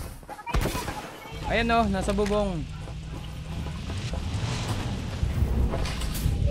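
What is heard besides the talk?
fireworks in the video game Farlight 84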